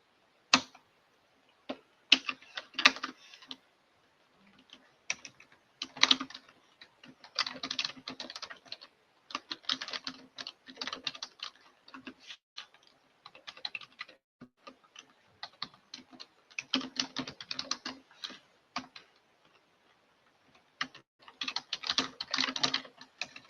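Fingers typing on a computer keyboard, producing quick bursts of crisp key clicks with short pauses between runs, close and fairly quiet, with no voices.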